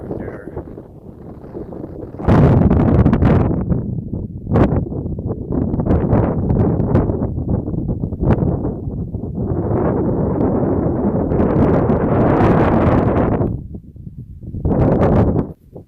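Wind gusting across a mountain trail in the Cascades, buffeting the microphone in loud, rough bursts that come and go, with brief lulls between gusts.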